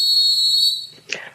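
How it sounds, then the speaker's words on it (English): A whistle blown as a sound effect gives one loud, steady, shrill tone that lasts about a second, then cuts off into a brief, noisy burst. "Blow the whistle then."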